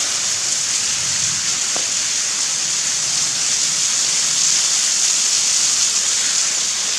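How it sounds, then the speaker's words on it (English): Steady rushing water from a waterfall inside a cave fills the space, a constant broad roar of falling water with no other sounds standing out. "with an actual waterfall."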